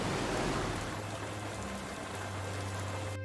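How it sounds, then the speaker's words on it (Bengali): Heavy rain pours down as an animated-story sound effect, a dense, continuous hiss of drops at a loud, even level with no voices. "জোরে বৃষ্টি শুরু হলো।"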